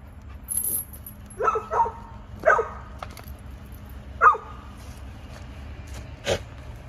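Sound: dogs barking

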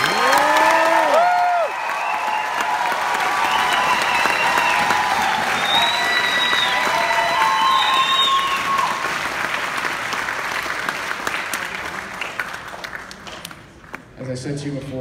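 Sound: audience applause for graduating seniors

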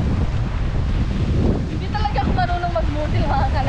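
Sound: strong wind at the seaside

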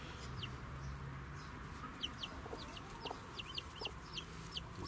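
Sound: chickens clucking

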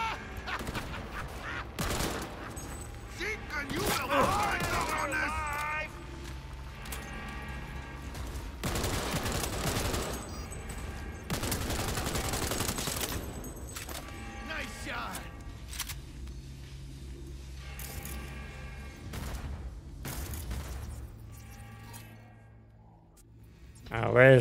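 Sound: gunfire in the video game Cyberpunk 2077

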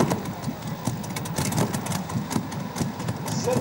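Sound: pulling tractor with Rolls-Royce WWII bomber engines idling

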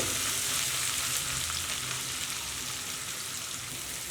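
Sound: onions frying in oil

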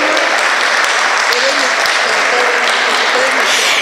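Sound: applause

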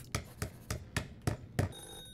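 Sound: telephone ringing ominously in a horror video game

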